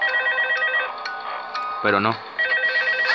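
Ringing telephone in the horror game Five Nights at Freddy's 2 mobile, a repeating electronic ring in short bursts, broken off briefly while a voice speaks over it before the ringing resumes.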